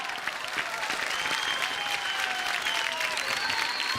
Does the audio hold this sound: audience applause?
yes